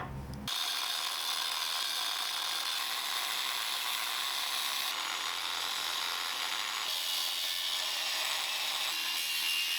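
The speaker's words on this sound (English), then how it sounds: "now I'm going to cut an angled notch into the legs" A power tool cuts angled notches into steel tube legs for a welded gasifier stove, giving a loud, steady, high-pitched grinding whine that starts abruptly and runs on with only slight changes in tone.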